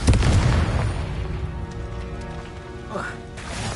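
A Confringo fire spell bursting in the Hogwarts Legacy video game, a loud close boom that fades into a rumbling tail with a brief rising whoosh near the end.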